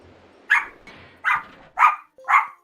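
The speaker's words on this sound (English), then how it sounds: "Dogs round 2. Good doggos." Dogs in The Wind Waker bark four times in a short, evenly spaced series of sharp, close barks over a quiet background.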